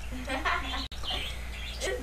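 A pet bird chirps and tweets in short bright calls close by, mixed with people talking over it in a room with steady background hum.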